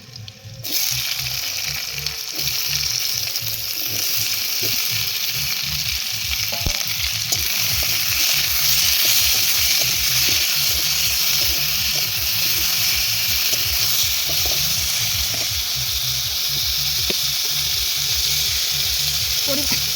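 Chopped tomatoes, green chilli and crushed garlic fry in a pan with a steady loud sizzle, while a spoon scrapes and stirs in repeated rhythmic strokes throughout.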